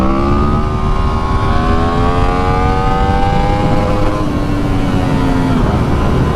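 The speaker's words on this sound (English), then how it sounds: "That was a pretty good one for a first gear only wheelie." A 2023 Yamaha MT-10 motorcycle pulls a first-gear-only wheelie, its engine note climbing and holding in a loud, close, sustained rev that slowly rises in pitch before easing off near the end.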